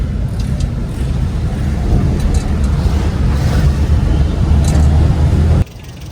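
A car engine that was rebuilt but still makes an abnormal noise is revved, giving a loud, steady, close mechanical roar with wind buffeting that cuts off abruptly near the end.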